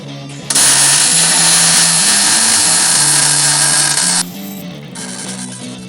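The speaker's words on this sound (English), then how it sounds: "now that I got both sides tacked, it's time to weld it in." Welding a part into a small hotrod, a loud, harsh, steady buzzing hiss that starts abruptly, holds for about four seconds and then cuts off, over a low mechanical hum.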